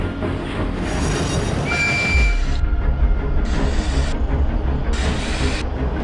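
A stone train runs on rails with a loud, continuous rumble, a brief wheel squeal and bursts of hissing that start and stop. No one speaks.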